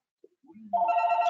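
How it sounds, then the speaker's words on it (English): A telephone rings with a repeating electronic ringtone, loud and close, starting after a few faint indoor noises and continuing steadily to the end. "excuse the phone call."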